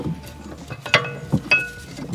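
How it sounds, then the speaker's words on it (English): Brake pads pulled from a Jaguar brake caliper make a few close metallic clinks and rattles, spaced out over a couple of seconds with quiet handling noise between them. "And then out comes the pads."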